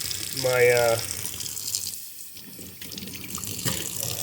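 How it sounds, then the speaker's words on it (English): A tap runs water into a sink to rinse a deer heart, a steady splashing flow that carries through the whole stretch, with a brief voiced sound near the start. "Let's go ahead and do another rinse real quick."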